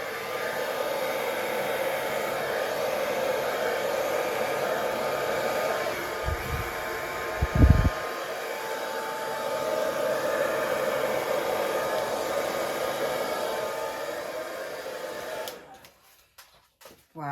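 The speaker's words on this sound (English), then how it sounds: "I'm just going to blow over that edge to start with." A hair dryer blows steadily across wet acrylic paint during a Dutch pour, a close, continuous whooshing that runs for about fifteen seconds before being switched off, with a couple of low bumps partway through.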